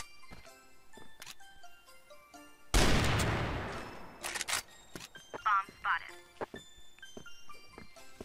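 Gunfire in the online shooter CrossFire, scattered single shots and short clicks, with one loud burst of fire in the middle and a voice talking over parts of it.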